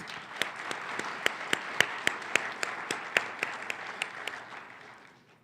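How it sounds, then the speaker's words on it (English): An audience at an MLK Day evening celebration applauds, a wash of clapping with distinct sharp claps punctuating it rhythmically, tapering off at the end. "why don't you give yourselves a round of applause?"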